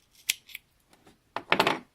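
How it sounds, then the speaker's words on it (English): Scissors snip through crochet yarn at close range: a couple of small quick clicks, then a louder cluster of sharp cuts near the end, with no one speaking. "so now we can cut the yarn"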